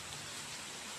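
Steady rain falls over a farm pasture planted with Carabao grass, a dense, even hiss that stays constant and close throughout the short stretch, with no voices over it.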